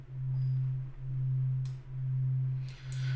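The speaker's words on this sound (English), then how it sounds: "If I turn detune down, then the sine wave becomes absolutely static." Low sine wave preset on an Arturia DX-7 V software synth, a pure sustained tone with the detune setting engaged, pulsing in slow, even swells about once a second, with faint clicks near the end.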